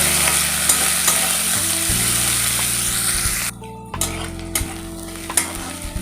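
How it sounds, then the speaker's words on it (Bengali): Steady loud sizzling of chopped onions frying to light brown in a pan, with a brief stirring pause midway, then the crackle resumes. "পেঁয়াজটা হালকা ব্রাউন করে ভেজে নেব"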